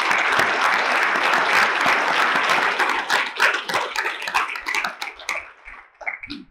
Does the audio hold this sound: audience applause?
yes